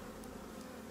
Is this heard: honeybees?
yes